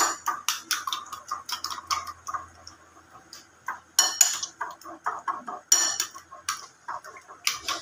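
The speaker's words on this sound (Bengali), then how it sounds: "এবার আমি ভালো করে ডিমটা এখানে ফেটিয়ে নেব" An egg is beaten briskly in a bowl, producing quick rhythmic clinks and taps in uneven bursts, close and fairly sharp with short pauses between runs.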